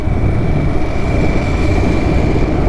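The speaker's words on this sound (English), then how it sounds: "We're out here riding a Harley-Davidson in the desert." A Harley-Davidson motorcycle ridden through the desert makes a loud, constant roar of engine and rushing wind, a dense unbroken rumble with no pauses and no speech.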